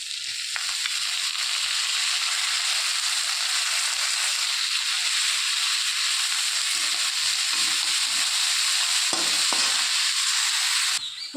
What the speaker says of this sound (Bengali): পুরো শাকটা কড়াইয়ের ভেতর দিয়ে দিয়েছি। এবার ভালো করে উল্টে পাল্টে এইভাবে মিশিয়ে নেব।